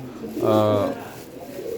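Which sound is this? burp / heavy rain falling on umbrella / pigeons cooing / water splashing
pigeons cooing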